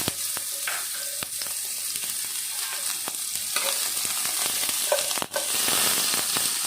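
Onions frying in a couple of spoonfuls of hot oil for a mixed vegetable curry, giving a steady close sizzle with crackles and occasional spatula scrapes throughout, no voices.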